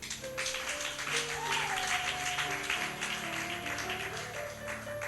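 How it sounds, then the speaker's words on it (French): Applause from a church congregation at a Christian gathering, a steady wash of clapping lasting several seconds while organ or keyboard chords sustain underneath. "Est-ce qu'on peut acclamer?"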